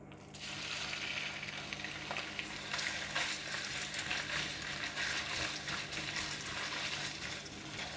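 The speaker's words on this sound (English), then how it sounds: "When oil is hot, I'm putting in the minced pork." Minced pork frying in hot onion oil for lou shi fan meatballs gives a steady, dense, close sizzle that holds evenly throughout, with no voices.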